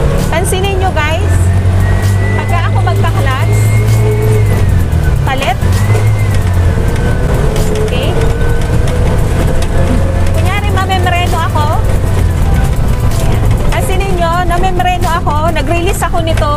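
A TVS King auto-rickshaw engine runs steadily with a low droning rumble and settles as the accelerator is released with the clutch held in, while someone talks over it throughout.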